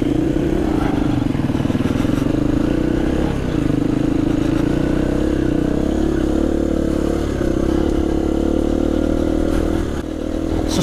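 A 2020 KTM 250 EXC-F four-stroke dirt bike is ridden off-road, its engine droning loud and close throughout with steady revving and clattering from the chassis and terrain.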